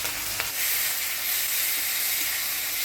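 Dried shutki fish frying with turmeric and salt in a pan, a steady close sizzle and hiss that runs without a break and carries a few small pops, with no voices.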